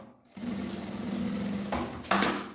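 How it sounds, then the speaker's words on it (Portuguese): A sewing machine runs steadily, stitching bias binding along a gym bag, with a brief pause and then a short burst of stitching near the end, close and alone without talk. "Primeiro, uma costura no viés."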